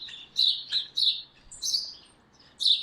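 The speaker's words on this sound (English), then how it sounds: "Wow, these birds are loud." Loud outdoor birds chirping close by in short, bright bursts, about six sharp calls over a few seconds with brief gaps between, no talking.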